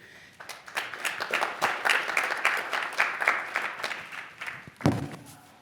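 Audience applause at a Department of Justice national security conversation event, a dense wash of many hands clapping for several seconds, steady and fairly loud, ending with a single sharp thump near the close.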